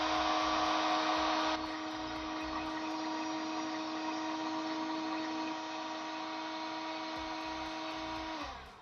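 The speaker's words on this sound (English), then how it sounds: "I have a hairdryer that's trying to sell itself a bit too much" A hair dryer runs in a steady, close whine that dips slightly in pitch early on, then holds its drone for several seconds before cutting off at the end.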